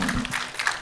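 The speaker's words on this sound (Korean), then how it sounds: "큰 박수 부탁드리겠습니다." An audience claps after a film talk event, a short burst of dense, steady applause at moderate volume with no voices over it.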